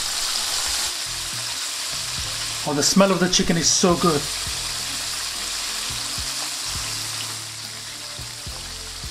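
Steady bubbling sizzle of chicken deep frying in oil, close by, with a person speaking briefly over it partway through.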